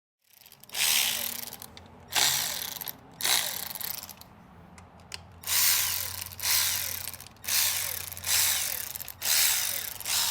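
A ratchet loosens the cam seal plate bolts on a Ferrari 456 V12 in short, close clicking bursts, each pull lasting about a second with pauses between, repeated roughly eight times.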